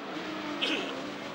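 A Mitjet 1300 race car making an inside overtake on the Lédenon circuit: a steady racing engine roar over 1.4 seconds, swelling briefly with a brighter, sharper burst partway through as the car closes in and passes.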